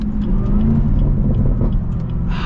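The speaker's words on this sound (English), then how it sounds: "just the burbles you get out of the exhaust, such a cool sound" A Chevy Camaro ZL1 exhaust gives a steady, loud low rumble with a dense burbling texture. It holds through the whole stretch and rises in pitch slightly near the end.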